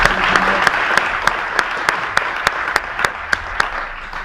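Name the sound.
audience applause welcoming speaker Ramon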